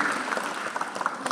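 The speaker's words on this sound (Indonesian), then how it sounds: "Beri tepuk tangan buat Tuhan Yesus." Church congregation applauding during a sermon, a brief burst of dense, fairly loud clapping with sharp individual claps showing through.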